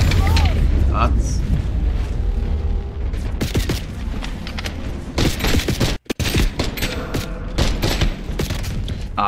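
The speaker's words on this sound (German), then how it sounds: "Ah, ich habe zu spät geschossen." Gunfire in Call of Duty: Black Ops, dense bursts of rapid shots and booming impacts running throughout, loud and close, with in-game voices talking over the battle.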